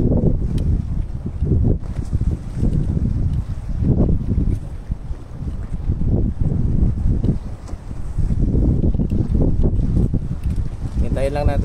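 Gusty wind buffets the microphone during tenkara fishing on the water, low rumbling surges rising and falling throughout, with a voice speaking over it.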